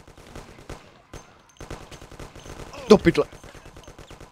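Gunfire in the video game Mafia: rapid bursts of automatic fire and repeated shots rattle throughout, peaking in a loud cluster near the end, while someone talks over the action.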